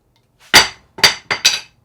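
A hammer strikes a watch four times in quick succession, each blow a sharp, close metallic clink with a brief ring, the last two landing almost together.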